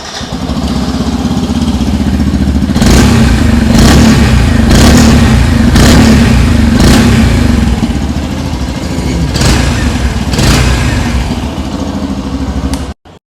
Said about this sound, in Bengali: এবার চলুন এই গাড়িটির ইঞ্জিন এবং এক্সস্ট সাউন্ড